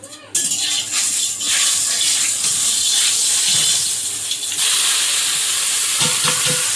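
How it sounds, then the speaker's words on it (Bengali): Prawns fried in oil in a wok, a loud steady sizzle that starts abruptly and holds throughout, with a few clinks of stirring near the end. "কড়াইয়ে তেল দিয়ে দিলাম একটা চাপাতে থাকি প্রথমে চিংড়িটা একটু ভেজে নেব"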